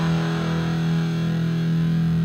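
An electric guitar plays through an amplifier's distortion channel with the contour control engaged, giving a sustained, thick, buzzing held chord that stays loud and even throughout, with no voice.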